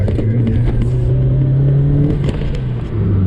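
Turbocharged Mazda Miata fitted with a cheap eBay turbo kit, accelerating at full throttle: a loud, close engine drone rising steadily in pitch for a few seconds, then easing off.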